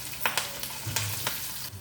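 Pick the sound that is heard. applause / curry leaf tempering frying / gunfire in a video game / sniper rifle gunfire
curry leaf tempering frying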